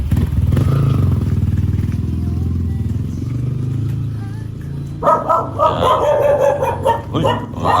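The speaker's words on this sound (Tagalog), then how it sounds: "Uy, mga aso." Several dogs bark and yip close by on a muddy rural road, sharp bursts cutting over a running motorcycle engine, with barking growing busier in the last few seconds.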